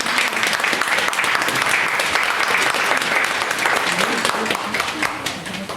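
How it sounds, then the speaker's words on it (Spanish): Audience at a public library's Andalusian Reading Day event gives sustained, steady applause, a full crowd clapping at close range that eases slightly near the end, with faint voices underneath. "Vamos a hacer un aplauso un poquito,"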